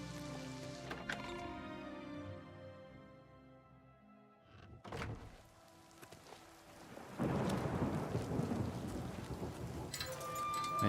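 Steady rain with rumbling thunder in the game Oblivion Remastered, a thunderclap booming near the middle before the downpour swells louder and denser toward the end.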